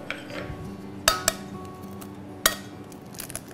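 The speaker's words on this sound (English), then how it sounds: "I'm going to put a jug on the scales and I'm going to set it to 0" Jug set down on kitchen scales while baking a Victoria sandwich, several sharp clinks and knocks of hard ware against the scale, two close together then one more, with light clatter in a quiet kitchen.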